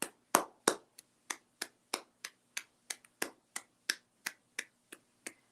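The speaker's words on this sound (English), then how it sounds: "Golf clap." A slow, polite golf clap: a dozen or so soft, evenly spaced hand claps in a quiet room, each a short crisp pop, the first few slightly louder.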